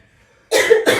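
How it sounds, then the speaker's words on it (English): One person coughs twice in a short, harsh burst, close and loud after a quiet moment. "Got a cough to get off."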